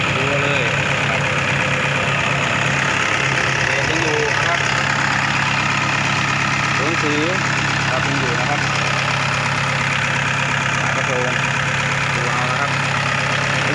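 A 2011 Toyota Vigo Champ pickup with a 2.5-litre engine idles with a steady, loud diesel-like rumble and clatter that holds throughout, while someone talks over it.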